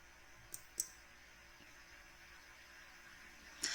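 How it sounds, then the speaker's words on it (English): Mouse clicks on the Save button in a Resume Builder career program: two crisp, faint clicks close together early on, then quiet hiss, then another short burst of clicking near the end, with no talking. "go ahead and click the Save button"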